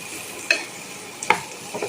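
A spatula scrapes twice through spiced lady's finger (okra) poriyal in a pan, two distinct strokes over a soft sizzle, close and clear with no voices.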